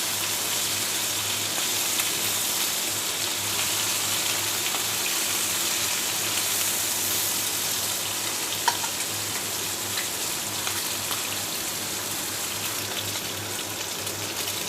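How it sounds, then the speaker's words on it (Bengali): Topse fish, also called tapsi, frying in a pan for a Bangladeshi fish recipe, a steady dense sizzle holding at an even level throughout with no talk. "মাছগুলো উল্টিয়ে দিচ্ছি, লাল লাল করে ভেজে নেব।"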